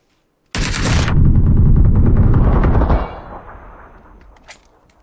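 Loud automatic gunfire in a video game, one sustained rapid burst of shots lasting a couple of seconds, then a fading echoing tail.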